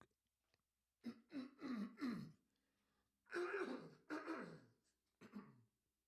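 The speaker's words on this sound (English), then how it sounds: "Had to clear my throat before we get this boy started." A person clears their throat several times in two short bursts, harsh rasping grunts close to the mic with quiet gaps between.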